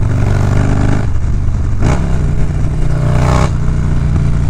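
Carbureted Harley FXR motorcycle engine revving up close, loud and steady idle broken by two sharp throttle blips that rise and fall back to a rumbling idle.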